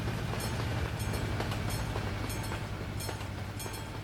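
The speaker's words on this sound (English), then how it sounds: "Oh, we got train coming." A train in Euro Truck Simulator 2 rolls past with a steady low rumble and rhythmic clickety-clack of wheels over rail joints, loud and close, with no one talking.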